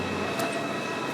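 A train travelling on rails, heard from on board as a steady, even rumble with a constant hum and a brief hiss near the start, with no talking.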